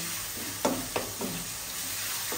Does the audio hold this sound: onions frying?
yes